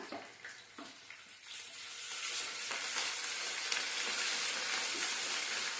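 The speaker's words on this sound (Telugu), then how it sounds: "ఇప్పుడు పుదీనా వేసుకుంటున్నా." Mint leaves hit hot oil in a tempering for an egg and tomato curry, setting off a close, loud, steady sizzle that swells after a few scattered pops.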